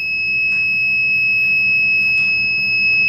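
A steady high-pitched electronic alarm tone from an anti-poaching tree alarm, triggered when a tree falls, sounds continuously and loudly, with faint brief taps scattered underneath.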